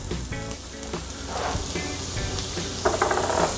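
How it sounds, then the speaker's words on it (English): Butter sizzling in a hot pan alongside cooking shrimp, a close, continuous hiss and crackle over a busy low background hum. "I'm gonna go ahead and throw in our butter now."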